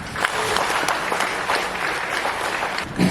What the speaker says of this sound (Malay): Kita berikan tepukan bergemuruh kepada pengurusan Feltra